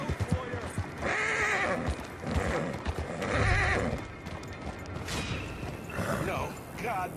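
A horse in the video game Red Dead Redemption 2 whinnies several times, breathy and close, over clip-clopping hooves and creaking gear, with background game sounds in between.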